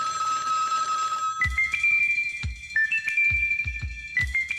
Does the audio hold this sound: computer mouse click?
no